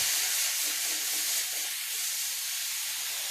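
Champignon mushrooms browning in a pan still coated from cooked meat, giving a steady, close, bright sizzling hiss that barely changes.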